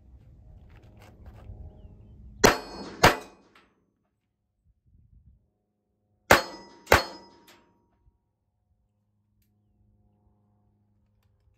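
Gunshots strike steel targets in a shooting drill: two separate pairs of sharp, loud cracks, each followed by a ringing clang, with quiet between the pairs.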